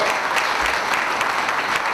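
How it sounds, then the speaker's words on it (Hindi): Audience at a public event in Mumbai applauding, a loud, dense and continuous burst of clapping with no voices over it. "इसके लिए तालियां आपको बजाना पड़ेगा।"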